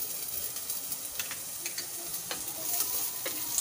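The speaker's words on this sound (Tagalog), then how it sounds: "Gigisa na rin natin ng sabay ang luya." Garlic and onion sizzle in hot oil in a pan for chicken tinola, a soft steady frying hiss with occasional stirring clicks and scrapes, fairly quiet and without talk.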